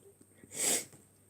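A single short sneeze, sharp and breathy, close to the listener in an otherwise quiet room.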